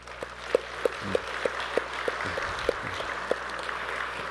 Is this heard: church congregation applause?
yes